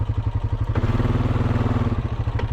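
A Honda Rancher 420 ATV engine revs hard in a rapid pulsing throb during a wheelie, loud and close, with a rising tone in the middle before easing off.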